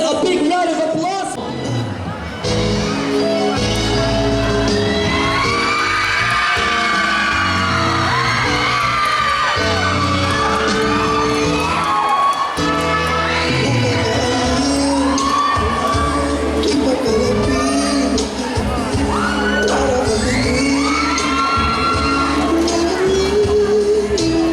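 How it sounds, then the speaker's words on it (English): An audience at the Binibining Barangay Poblacion 2025 pageant, part of a barangay anniversary celebration, cheers and applauds the candidates with whoops, yells and shouts. The crowd noise is loud and sustained, with voices and a musical tone running through it. "Let's give our candidates a big round of applause."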